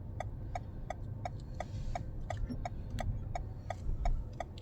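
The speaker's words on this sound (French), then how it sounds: "je mets mon clignot" A car's turn signal ticks steadily at an even rhythm inside the cabin during a driving test route in Chaville, with low engine and road hum underneath.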